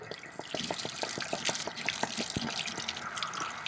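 Water draining from an RV tank splashes and trickles steadily with scattered drips, a continuous close-up flow with no talking.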